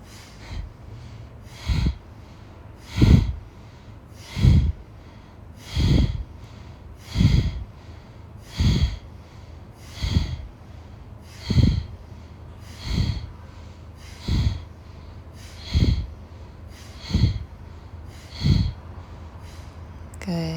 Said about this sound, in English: You can think about pumping your belly back with every exhale.